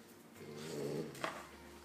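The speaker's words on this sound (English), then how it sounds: "If you hear the growling" A French bulldog puppy growls low and steady indoors, a soft continuous rumble that swells slightly mid-way, with a faint click near the end.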